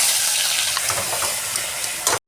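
Ground spice paste sizzling in hot oil with a few whole cumin seeds and whole garam masala, a dense steady close-up fry for a couple of seconds that cuts off abruptly near the end.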